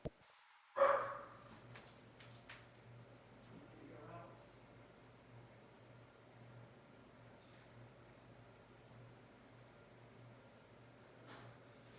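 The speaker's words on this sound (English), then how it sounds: "my dog has finally learned how to tell me she needs to go out" A pet dog gives one sharp, loud bark near the start, wanting to be let outside, and low, quieter indoor background sound follows.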